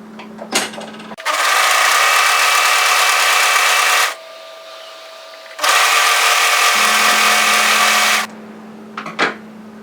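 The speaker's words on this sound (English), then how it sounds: "fold it right sides together and stitch this long edge together" A sewing machine stitches the long seam of a wide fabric headband in two sustained runs of loud, close whirring, with a short pause between them and light handling clicks at either end.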